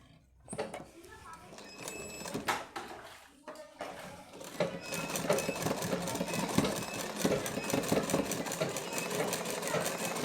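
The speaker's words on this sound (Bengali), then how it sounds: "দেখো, এইভাবে সেলাই করে দেব।" A sewing machine stitches fabric for a latkan tassel design, starting with a few handling clicks and then settling into a steady, fast, rhythmic whir of stitching, close by.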